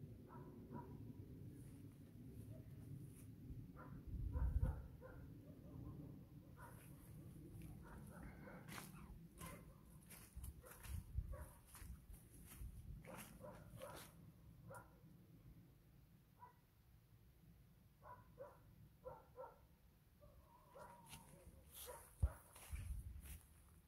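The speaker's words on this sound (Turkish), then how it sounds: "Köpek sesleri halen geliyor." Dogs bark now and then in the distance, faint and scattered over a low rumbling background with occasional soft knocks.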